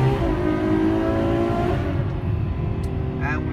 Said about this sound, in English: we have a Ferrari convoy